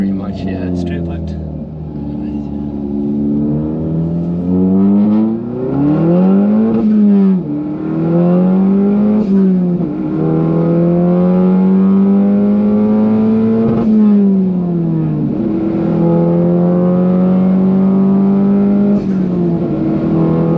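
Audi S1 with a straight-piped exhaust and 350 hp, revving repeatedly, pitch rising and falling in long sweeps, loud and close, with talk over the engine.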